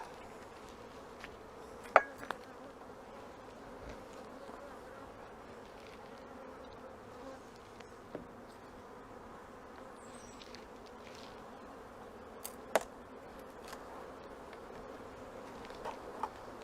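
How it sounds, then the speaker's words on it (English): A dense, steady drone of many honey bees buzzing inside a hive, with a few faint clicks and knocks now and then. "there are a lot of bees in here working"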